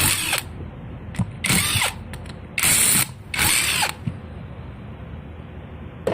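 A hand ratchet wrench with a 10 mm socket loosens the discharge line fitting on a failed VW AC compressor, producing several bursts of rapid, close clicking separated by short pauses.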